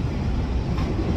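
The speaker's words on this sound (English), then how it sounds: "I can't believe I'm riding the world famous Shinkansen." Shinkansen bullet train running between Mount Fuji and Kyoto, heard from inside the cabin as a steady, dense low rumble and rushing noise.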